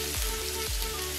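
Potato chips sabzi being stirred in a frying pan, with a continuous close sizzle broken by two low, soft scraping thuds as the slices are turned over.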